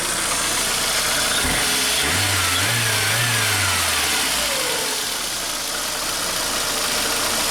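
A VAZ 2115 car engine idles steadily and evenly after repairs to fix antifreeze leaks and replace gaskets, a loud, close, continuous hum with a brief low dip near the start.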